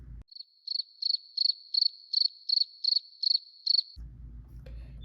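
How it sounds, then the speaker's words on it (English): A cricket chirps in a regular series of about ten short bright pulses, clear and alone in silence, followed by a low rumble at the end. "cricket right there"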